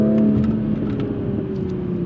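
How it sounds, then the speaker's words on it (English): A stock Toyota Supra on new tires launches hard, its engine drone rising steadily in pitch while the tires grip the road, a loud, continuous pull heard up close without talk. "But these tires, you can hear that they're sticking."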